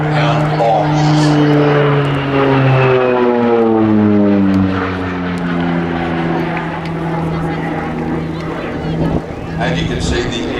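A North American Rockwell OV-10 Bronco twin-turboprop flies past at an air festival, its loud propeller drone sweeping downward in pitch as it passes, with a commentator talking over it.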